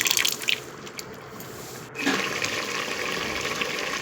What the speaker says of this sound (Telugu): మనం ముందుగా రెడీ చేసుకున్న చింతపండు పులుసును దాంట్లో పోయాలి.